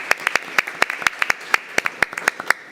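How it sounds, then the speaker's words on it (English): Scattered clapping from a small audience at a school board meeting, a few hands beating an uneven, sparse rhythm for a couple of seconds, moderately close. "So if you can have a round of applause for anybody in those departments and organizations."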